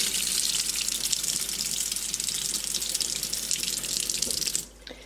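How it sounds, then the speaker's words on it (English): Tap water runs steadily through a Clearly Filtered under-sink filter, a continuous close hiss and splash at reduced pressure that stops abruptly near the end. "here is the water flow after installing the filter"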